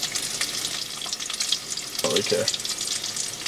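Potatoes frying in a pan for breakfast inside a van, a steady close sizzle with a brief burst of stirring partway through and a short spoken word.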